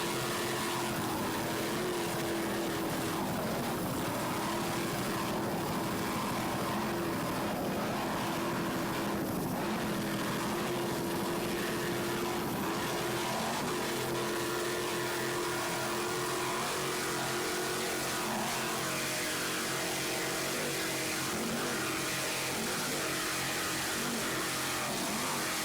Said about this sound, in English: Just listen to those two 850 horsepower Chevy inboards